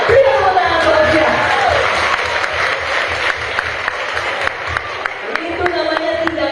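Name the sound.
audience applause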